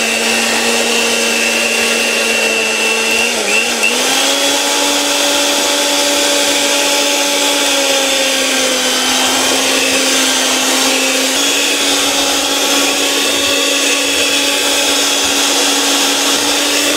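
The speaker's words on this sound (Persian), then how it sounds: "خوب مخلوط شد با میکسر میکس میکنیم." Electric hand mixer whirring steadily through a bowl of eggs, sugar and powdered sugar, loud and close with a constant motor drone that shifts pitch slightly as it works, with no talking.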